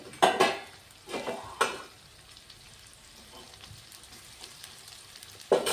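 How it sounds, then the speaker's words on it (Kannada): Red chillies frying in a pan during capsicum rice preparation, giving a low steady sizzle broken by a few louder bursts of stirring and utensil scraping near the start and end. "1-2 ರೆಡ್ ಮೆಣಸಿಕಾಯಿ ಹಾಕೋಣ. ಚೆನ್ನಾಗಿ ಫ್ರೈ ಆಗಲಿ."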